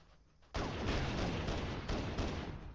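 Dense video game gunfire bursts loud and continuous after a brief quiet start, a rapid barrage of pistol shots with sharp repeated cracks that fill the whole clip.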